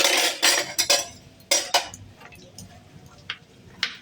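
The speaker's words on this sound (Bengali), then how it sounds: "এইভাবে রসুনটা কেটে নেবো, কুচি কুচি কুচি কুচি করে কেটে তারপরে বেটে নেব।" A knife chops peeled garlic on a board in close, sharp knocks, a quick burst of cuts followed by scattered single taps, with no voices.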